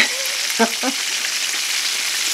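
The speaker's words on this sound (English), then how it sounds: "I could hear that it was frying kind of hard" Loud, vigorous frying of chicken in a cast iron skillet, a dense crackling hiss throughout, with a couple of brief scraping knocks early on.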